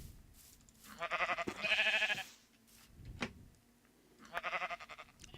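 Sheep in a Minecraft modpack game bleat in two separate bursts, each a wavering, nasal call of a second or so, moderately loud against low game background.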